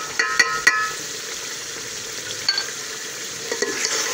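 Cumin, black pepper, dried coriander and a cinnamon stick roast in a pan for an aloo keema dish, giving a steady soft sizzle with a few sharp spoon scrapes and clinks near the start and later on.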